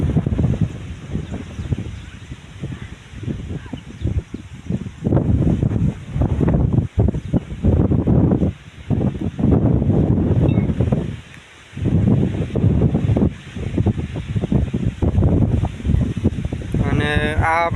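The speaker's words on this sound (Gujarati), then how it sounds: "આ પવન એકદમ સ્પીડથી પવન આવી રહ્યો છે, જોરદાર" Strong gusting wind ahead of a storm over a farm field, buffeting the microphone in loud, rough surges with brief lulls and rustling leaves throughout.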